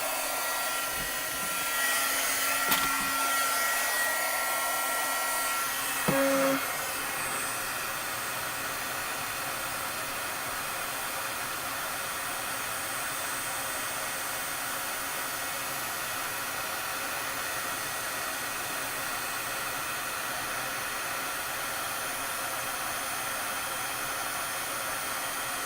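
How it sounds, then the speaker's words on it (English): An embossing heat gun for card making runs with a steady, even blowing hiss throughout, and there is some faint handling noise in the first few seconds. "We're going to let our gun heat up a few seconds."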